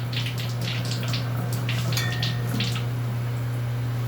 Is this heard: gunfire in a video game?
no